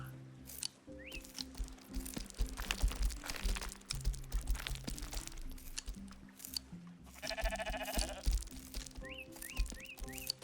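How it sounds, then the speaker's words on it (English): Sheep bleats from a black sheep in a Minecraft-style survival game, a few short wavering calls sitting over busy game sounds and background music, fairly clear against the mix. "This is the black sheep that we did a couple episodes ago."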